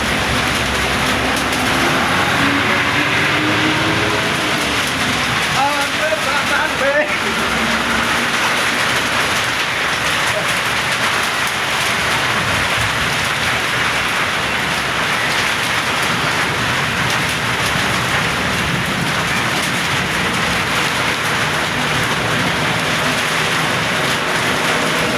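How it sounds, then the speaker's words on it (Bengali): Heavy rain pours steadily during a thunderstorm at night, a dense, loud, continuous hiss with no break across the whole stretch. "খুব জোরে জোরে বৃষ্টি হচ্ছে এখন।"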